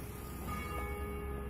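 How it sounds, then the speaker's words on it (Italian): Church bells ringing in Madonna dei Fornelli, a village on the Via degli Dei, heard as steady, sustained tolling tones over a low outdoor rumble, fairly distant and continuous throughout. "Queste che suonano sono le campane della chiesa"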